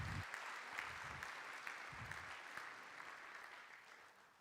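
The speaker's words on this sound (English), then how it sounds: "Please, a round of applause." Sustained applause from a large conference audience at the opening ceremony of the Zero Project Conference 2026, a dense wash of many hands clapping, fairly distant and steady throughout, with no speech over it.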